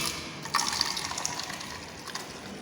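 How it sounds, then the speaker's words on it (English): Water poured into a plastic bottle pierced with four holes at different heights, giving a steady splashing trickle and gush at close range, with no talk. "Then I am going to pour water into the bottle."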